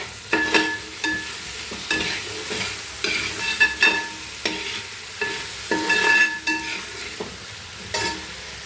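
Chili and masala sautéing with salt in a pan for a Kerala country-style chicken curry, with repeated spatula scrapes and stirring strokes over a steady sizzle, close and fairly loud, with no talking.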